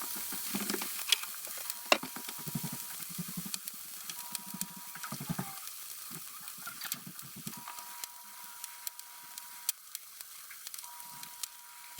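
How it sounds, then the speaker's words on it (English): Scrapple sizzling and crackling steadily in a hot pan, a continuous close hiss of frying with scattered sharp pops and a few low scraping bumps, no voices. "Scrapple cooking in a pan with the bubbles and the steam and the crackling"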